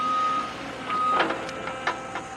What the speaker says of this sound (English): they're excavating this back a little bit